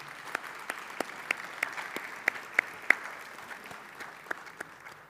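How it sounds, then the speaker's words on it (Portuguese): An audience applauds steadily, with scattered sharper individual claps standing out over the continuous patter. "Ana Maria Machado, palmas para ela."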